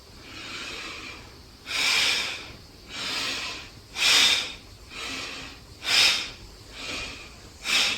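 Slow, deliberate breaths during a gentle movement practice, alternating soft inhales and stronger airy exhales in a regular rhythm, close and alone.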